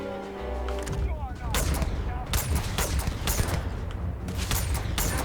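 Gunfire in the Starfield video game, with bursts of sharp shots cracking repeatedly over a dense, booming mix. A voice talks over the gameplay.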